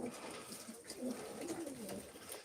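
Pigeons coo softly at a live Turkish pigeon auction, several low, throaty, rolling calls overlapping at close range against a faint room hum.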